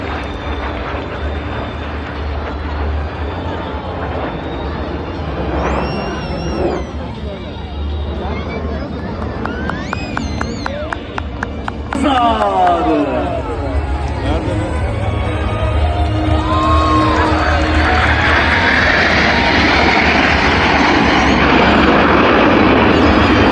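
Turkish Stars aerobatic jets fly over Selimiye Square in Edirne during a Republic Day show. A rushing roar swells and builds toward a loud sustained pass over a murmuring outdoor crowd, while someone talks through it on a loudspeaker.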